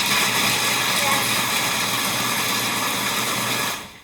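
A steady, loud whirring food processor motor drones without a break, a gritty buzz as it grinds walnuts, then quickly winds down at the end.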